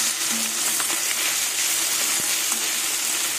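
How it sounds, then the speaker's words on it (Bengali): Small Ganges river fish frying in mustard oil in a wok, producing a dense, continuous loud sizzle with faint occasional clicks of a utensil and no speech. "মাছ ভাজা হয়ে গেছে, এবার মাছগুলো উল্টে দেবো।"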